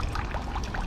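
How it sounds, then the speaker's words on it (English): Roughly 50-degree water pours steadily out of a pipe from a Jean-Pain compost heating pile, a continuous splashing, trickling stream that sounds close and even, with no voices over it. "around 50 degree water coming out of here"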